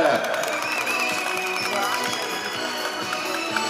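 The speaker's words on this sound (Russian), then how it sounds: "Ваши аплодисменты!" Audience applause for guests invited onto the stage at a city wheel-day festival, a steady dense clatter of many hands clapping throughout with crowd noise underneath.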